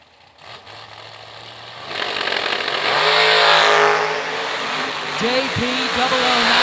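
A hot rod revs and roars away on a drag racing strip, its engine rising to a loud, close howl as it accelerates through the gears, with voices talking underneath.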